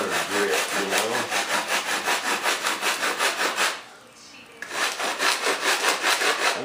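Coarse 50 grit sandpaper worked over a big block of wood gives a fast, rhythmic rasping in even back-and-forth strokes, stopping briefly before the strokes start again.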